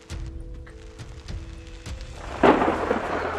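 Thunder from a close lightning bolt during a supercell storm cracks loudly near the end, a sudden sharp boom following quieter rumbles and patter of rain.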